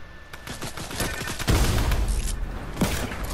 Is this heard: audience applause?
no